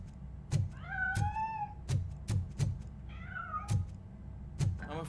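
A cat in the video game Robocop: Rogue City gives two clear, drawn-out meows, close and fairly loud, among a series of sharp, regularly spaced knocks and thumps.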